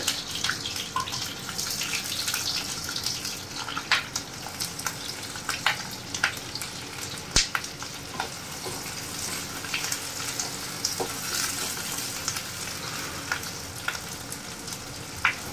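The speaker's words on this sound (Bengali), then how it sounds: "আমি তেলের ভিতর দিয়ে দেব পেঁয়াজ কুচি" Chopped onions frying in oil for a shahi paneer, a steady moderate sizzle with scattered crackles and occasional clicks of stirring throughout.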